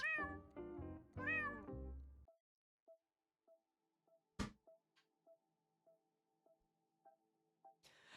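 A cat meows several times in quick succession, close and clear, followed by quiet ticking clicks and a sharp thump in an otherwise quiet room.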